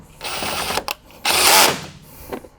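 A power tool whirs in two bursts, a shorter one then a longer louder one, driving the two factory bolts into a Jeep Wrangler JK air box mount, close up and with no talk.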